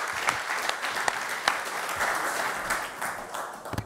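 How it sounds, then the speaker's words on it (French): An audience at a conference hall applauds for the whole stretch, a dense, sustained clapping with a few sharper individual claps standing out and no talk over it. "on peut l'applaudir également"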